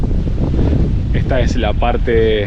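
Strong coastal wind blowing near the sea on a cooling, overcast day, a constant loud rumble buffeting the microphone while someone speaks over it.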